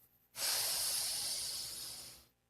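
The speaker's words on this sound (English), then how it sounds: "Inhale." A single long, deep inhale through the nose during a Kundalini yoga practice, a steady airy breath close to the ear that holds for about two seconds and then stops.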